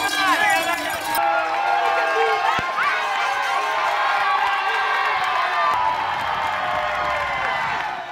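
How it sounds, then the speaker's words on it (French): Spectators packed along the UTMB course in Saint-Gervais cheer and shout as trail runners pass after 21 km, a dense, continuous crowd roar with whoops and high voices, loud and close throughout. "tant la foule est venue s'amasser pour voir passer tous les coureurs après 21 km de course"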